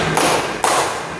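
A teacher's clapping pattern for 'clap three' in a classroom group guidance session: two sharp, close hand claps, evenly spaced, with no talk.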